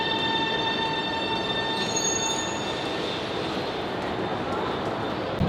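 A Shanghai metro train pulls into a station, its steady rolling rumble joined by high, sustained wheel squeal and ringing tones, close and continuous with no talking, then a short louder clunk at the very end.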